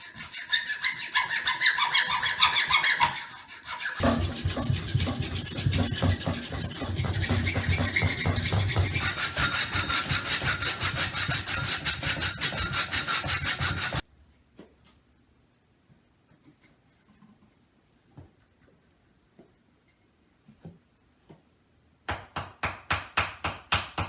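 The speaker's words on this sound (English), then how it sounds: "So when you finish cutting the handle open" A handsaw cuts along a pencil line to split open a wooden spear handle, with steady, close rasping strokes in two long runs, then a quiet stretch with a few light knocks, and a short burst of sawing at the end.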